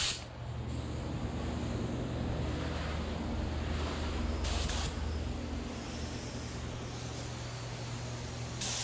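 A spray gun lays a second clear coat on a 2016 Nissan Altima, a steady close hissing spray running continuously with a brief louder burst midway.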